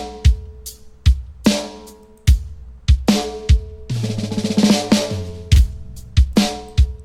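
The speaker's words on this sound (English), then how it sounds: "This is the sound of hard compressed sound just under the drum bus" Drums run hard through bus compression: punchy kick and snare hits land in a steady rhythm, each clamped and pumping, with sustained tonal bleed and a busy fill in the middle, loud and upfront with no voices.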